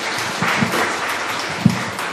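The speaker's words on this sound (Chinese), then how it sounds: "再用热烈掌声哦，欢迎咱田委员哈" Audience at a Taiwanese public forum lecture breaks into steady applause to welcome a former legislator to the stage, a dense, continuous wash of clapping filling the room throughout.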